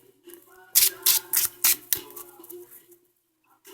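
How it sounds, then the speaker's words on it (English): A quick series of sharp, crisp riffling bursts of a Yu-Gi-Oh! card deck being shuffled close up, with a steady hum and faint background music underneath. "Hopefully you guys can hear me shuffling, because they are kind of loud."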